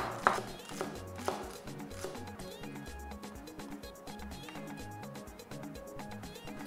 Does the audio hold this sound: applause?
no